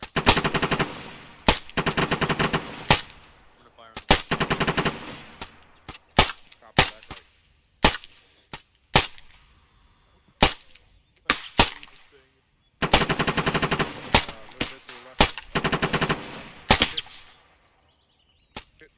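Rifle fire at a military shooting range during special forces detachment training: loud, sharp shots close by, some in rapid automatic bursts and others as single cracks with gaps between them, spread across the whole stretch.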